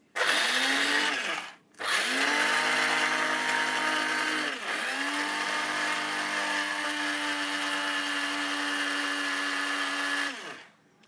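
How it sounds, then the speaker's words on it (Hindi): An electric grinder whirs through chaat masala spices in close, loud bursts, first a short run, then a brief pause, then a longer run that dips once before ending, with no talking. "मेरे ख्याल से इसी को सिर्फ ग्राइंड करेंगे अब"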